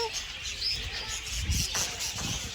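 Budgies at a petting zoo chirp and chatter in quick, high twitters, with lower thumps and rustling nearby and faint voices in the background.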